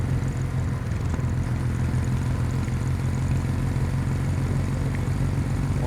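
Kawasaki W800 motorcycle engine riding on the highway, short-shifted, a dense continuous low rumble with steady wind and road roar, close and unchanging throughout, no talk.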